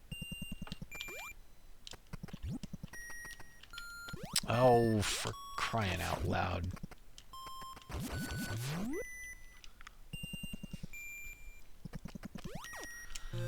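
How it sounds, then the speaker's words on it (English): Repeating electronic low-energy warning beep from Metroid on the NES, short evenly spaced tones pulsing steadily and faintly, mixed with other game bleeps and effects while a person speaks briefly. "that warning beep sounds when you're at, I think, 15 energy or less"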